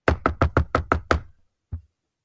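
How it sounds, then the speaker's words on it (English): Seven quick knocks on a wooden door in a fast even series, close and clear, followed by a pause and one softer single thump; no voices. "He had just shut his eyes when there was a knock at the door."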